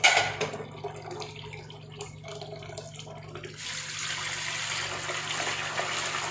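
Running water pours steadily in a home kitchen as rice is rinsed under the tap, a continuous close splashing hiss that grows brighter and fuller in the second half, with no talking.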